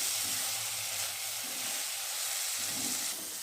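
Shepu (dill) bhaji with peanut powder sizzles steadily in a pan, a soft continuous frying hiss with a few faint scraping stirs underneath.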